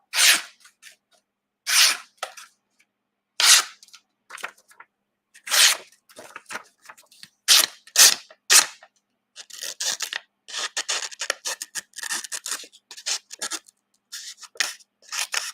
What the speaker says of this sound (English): You can whittle paper.